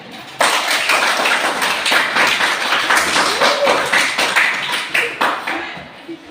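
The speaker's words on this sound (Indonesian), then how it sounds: "Terima kasih, tepuk tangan." A class of students claps together at the teacher's prompt, a burst of fairly loud, ragged hand claps with distinct individual strikes, thinning toward the end, mixed with some voices.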